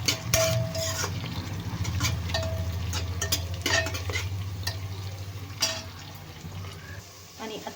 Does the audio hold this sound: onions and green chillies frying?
yes